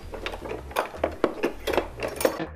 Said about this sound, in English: I'm going to grab my tomato knife out of here.